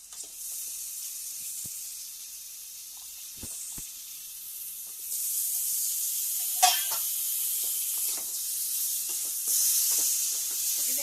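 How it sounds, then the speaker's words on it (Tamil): Chicken stirred into a pan of sizzling chilli masala, a constant bright hiss cooking on low heat, with scattered scraping and clinking strokes of a spoon against the pan. "க்ளீன் பண்ணி வச்சுருந்த இந்த சிக்கனை இதோட கலந்துக்க போகிறோம் கலந்து நல்லா கலந்து விடவே போகிறோம்"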